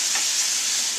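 Fajita steak meat browning in a hot pan gives off a steady, close, bright sizzle that holds evenly through the short moment with no voices.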